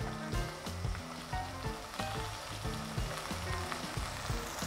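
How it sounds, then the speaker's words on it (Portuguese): Food frying in oil in a pan on a stovetop, with steady sizzling and crackling that runs throughout, close by and moderately loud, with no talking. "levo a preparação para o óleo para que possa ir fritando"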